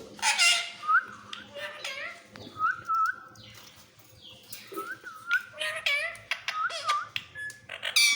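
A pet parrot chirps and whistles in short bright bursts, repeated with brief pauses, fairly close, with soft background noise.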